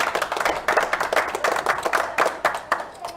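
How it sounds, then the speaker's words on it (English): A small audience at a poker tournament final table gives sparse, distinct applause for a player. Individual hand claps stand out in an uneven, loose rhythm, close and moderately loud, with no talking over them. "A big round of applause, please, for Kevin Hazard."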